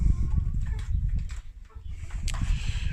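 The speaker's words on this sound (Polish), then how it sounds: "Tu widzicie Kury sobie szaleją, jedzą jajka." Chickens clucking nearby with low, uneven murmurs and a few sharper calls, over a rough rustling background.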